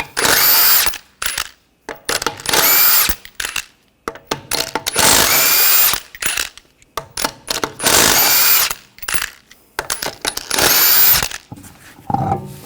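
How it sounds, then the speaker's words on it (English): Impact tool with a 21mm socket removing lug nuts from a 2014-2020 Nissan Rogue, about five loud, close bursts of high whirring and rattling, separated by short pauses and small metallic clinks. "We're going to use a 21mm socket, take the lug nuts off"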